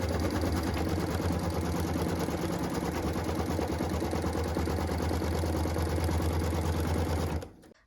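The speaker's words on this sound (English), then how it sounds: "I'm going to go ahead and stitch those centering crosshairs right on my stabilizer" An embroidery machine stitches centering crosshairs in white thread onto stabilizer, a loud, rapid mechanical chatter running steadily nearby before cutting off abruptly at the end.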